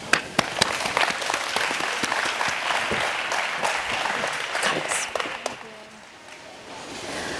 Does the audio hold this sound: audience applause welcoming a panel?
yes